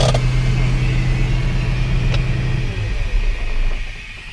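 A Case Magnum 7210 tractor's engine rumbles loud and near, a heavy low drone that eases off partway through before building again.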